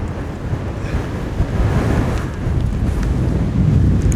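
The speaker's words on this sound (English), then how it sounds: "it is windy up here." Strong wind on a hillside roars steadily across the microphone, a constant low rumbling buffet that swells slightly toward the end, with no voices.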